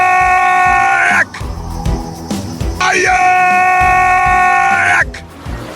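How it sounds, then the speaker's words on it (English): A drawn-out, harmonically rich human scream in a pirate audio drama, loud and near, sounding in two long bursts separated by a brief gap with clattering and rumbling noise beneath. "Did you hear that terrible scream again?"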